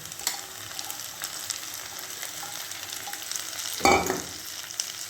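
Capsicum fries in a pan with a soft, steady sizzle as a spatula stirs it, giving light scrapes and one sharper clatter near the end; no one speaks.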